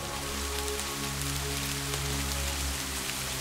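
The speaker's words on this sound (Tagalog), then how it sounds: "bahagyang pumapatak ang ulan." Light rain falls under an overcast sky, a steady, even patter and hiss of drops with no voices and no pauses.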